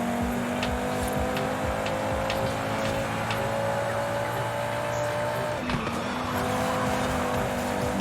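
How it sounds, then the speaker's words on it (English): A BMW M2 race car in a racing video game overtakes with a sustained engine drone and some tire noise, steady and loud across the whole stretch, with no talk over it. "That was a very worthwhile overtake there by the M2."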